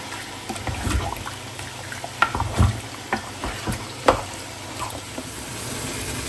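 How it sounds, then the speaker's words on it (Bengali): Spice masala for chicken roast fries in a pan while being stirred, a close continuous sizzle broken by repeated scraping thumps of the spoon. "এখানে আমি রোস্টের মশলা কষায় ফেলছি"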